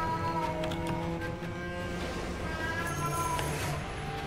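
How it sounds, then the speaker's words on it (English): A house cat meows repeatedly, faint and mixed under steady video game sound with music and effects. "And my cat's going nuts."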